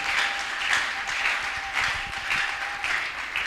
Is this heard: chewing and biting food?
no